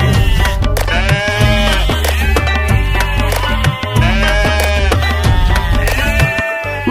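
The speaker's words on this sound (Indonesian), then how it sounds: "Ini domba dan suaranya." Loud electronic bleating from a toy sheep, a repeating wavering baa sung in a synthetic tone over a steady musical backing, very close.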